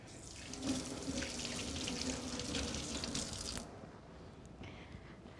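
Hands are washed under a running kitchen tap: a steady hiss of flowing water splashing into the sink, fairly quiet, then tapering to a lighter trickle near the end, with no talking.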